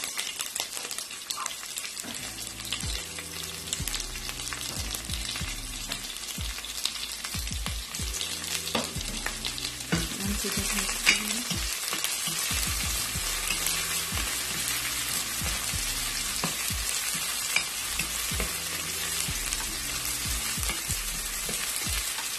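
Finely chopped capsicum sizzles steadily in a frying pan, a continuous bright hiss with occasional stirring scrapes, close and loud with no talking, while low-pitched music plays underneath.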